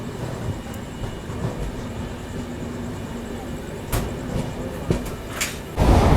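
Kanchankanya Express running at night after leaving Barddhaman junction, a steady close rumble of carriages with occasional knocks and clicks, ending in a louder rush of noise.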